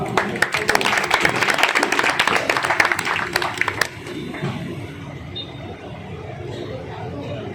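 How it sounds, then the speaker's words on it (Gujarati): Audience applause for performers at a stage event, dense clapping for about four seconds that then stops, leaving room murmur and a voice speaking over the hall. "આપણે આ દરેક કલાકારને તાળીઓથી વધાવવાના છે, તો તાળીઓમાં કંજૂસી નહીં કરતા."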